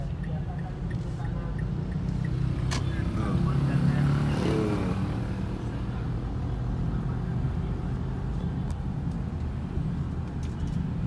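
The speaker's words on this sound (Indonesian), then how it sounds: "Oh, masih banyak sekali kendaraan" Busy city road traffic in Malang rolls past nearby, with a steady rumble of cars and motorbikes and one louder vehicle swelling and fading mid-way, while a person talks over the noise.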